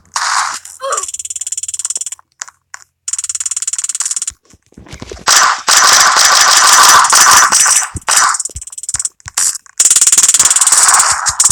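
Loud bursts of rapid gunfire crackle in the Roblox game Prison Life, coming in several harsh, dense stretches separated by short gaps, with speech also present.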